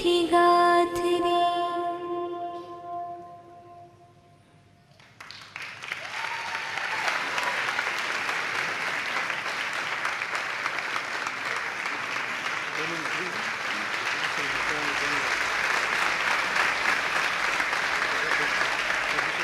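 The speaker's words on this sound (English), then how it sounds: "Well, the applause speak for themselves there." After singing fades out, a large crowd in a London mandir bursts into sustained, even applause that swells and holds loudly for many seconds.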